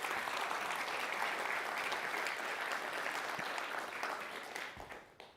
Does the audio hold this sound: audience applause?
yes